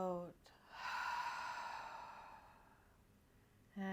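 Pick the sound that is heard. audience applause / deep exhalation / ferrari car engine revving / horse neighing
deep exhalation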